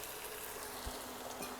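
Chicken frying in a pan for Chinese fried rice, with a faint, steady sizzle and a few soft stirring knocks, heard alone without talk.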